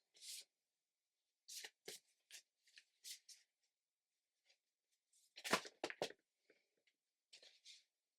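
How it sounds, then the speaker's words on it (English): Quiet, close bursts of cards being shuffled and riffled, several short flurries separated by silence, with a denser run in the middle. "I don't even know why I'm shuffling them."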